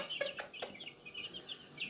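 A buff Pekin bantam hen clucks softly and repeatedly up close, a run of short, murmuring clucks at a quiet level.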